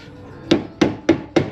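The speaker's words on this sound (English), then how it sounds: "More hammering." Four sharp metal-on-metal hammer blows strike a stubborn part on a 2005 Harley-Davidson FLHRI Road King, evenly spaced about a third of a second apart, close and loud with short ringing decays.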